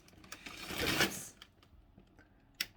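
A packet of crisps rustling during a grocery haul, heard as a few quiet, short crinkly bursts, the longest in the first second and another brief crackle near the end, in an otherwise quiet room.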